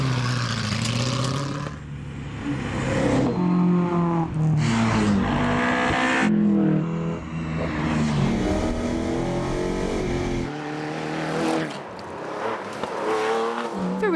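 Classic cars racing through a Tour Auto timed stage among rapeseed fields, loud engines revving and rising through gears as cars pass close by, with brief tire squeal.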